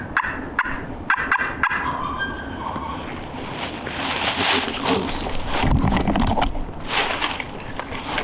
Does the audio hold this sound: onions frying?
no